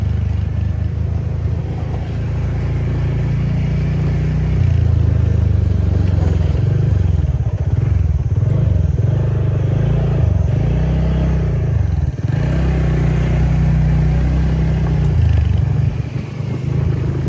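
A TVS Ntorq scooter rides along a rough off-road track near a hanging bridge, its engine droning loudly and continuously with revs rising and falling and a rattling clatter of the body over bumps throughout.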